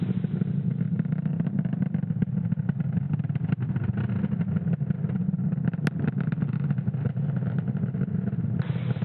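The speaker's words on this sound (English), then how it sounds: "Falcon 9 has successfully lifted off from Space Launch Complex 40 from the Cape at 11:35 a.m. Eastern Time" A SpaceX Falcon 9 carrying Starlink satellites climbs away from Space Launch Complex 40 at Cape Canaveral, its engines a steady, dense, muffled roar that holds at constant loudness throughout.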